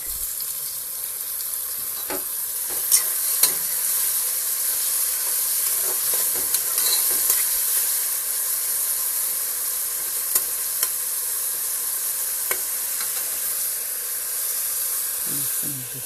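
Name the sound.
greens, onion and tomato simmering in pot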